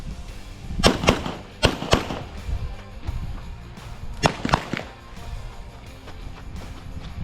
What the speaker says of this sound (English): how soft shooting the gun was. And I actually started out with some Blazer 115